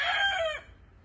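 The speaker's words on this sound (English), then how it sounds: "Chickens are out here roaming," A rooster crows once at a farmhouse where chickens roam, a loud, close call of about half a second that cuts off sharply into quiet yard ambience.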